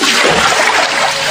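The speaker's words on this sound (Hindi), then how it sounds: "सारी औरतों के चले जाने के बाद सीता उदास मन से मटके में पानी" Water poured into a clay pot, a short loud rushing splash with bubbling texture, alone and close.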